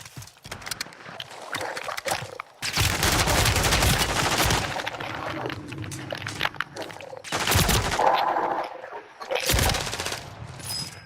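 Video game gunfire rattles in bursts of rapid automatic shots, some near and loud, others thinner, broken by short quiet gaps and mixed with scuffling movement sounds.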